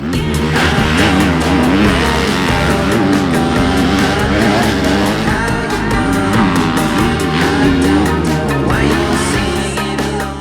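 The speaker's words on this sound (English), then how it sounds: "It's a good day for orange because we are riding the 2024 KTM 250SXF Factory Edition." 2024 KTM 250SXF Factory Edition four-stroke dirt bike ridden hard, a loud, continuous high-revving engine that rises and falls with throttle and gear changes throughout, close to the listener and with no talking.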